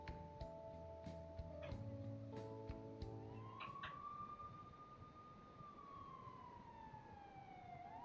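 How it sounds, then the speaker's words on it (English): Sirens within the video game Persona 5 Royal: a rising and falling electronic wail sweeps up and slowly down after a stretch of layered tonal game music with sharp clicks, heard quietly and without talk. "Well, there's sirens."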